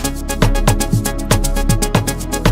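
A punchy Nexus synthesizer preset plays bright, rhythmic stabs repeating in a quick, steady pulse over a deep sustained bass, loud and upfront.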